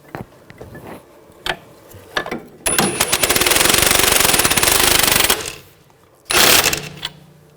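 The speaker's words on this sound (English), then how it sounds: "On the back, I'm going to use an 18mm wrench to prevent the stud from spinning. And we'll tighten the nut down." A nut is tightened on the sway bar link of a 2000-2006 BMW X5 while an 18mm wrench holds the stud. A loud, rapid mechanical rattle runs for about two and a half seconds, then a shorter burst follows amid scattered clicks.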